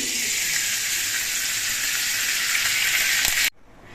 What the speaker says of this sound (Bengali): এবার কড়াইতে দিয়ে দিচ্ছি সাদা তেল